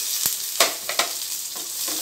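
Onion fries in a little oil on a tava for a Malvani-style chana dal sambar. The close, steady sizzle carries several sharp stirring clacks and scrapes.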